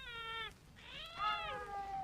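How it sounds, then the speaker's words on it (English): Dubbed cat meowing from the giallo film Seven Blood Stained Orchids: two drawn-out, whiny meows, the second longer and wavering, close and fairly loud over a faint film soundtrack background. "Even the cats are dubbed in this."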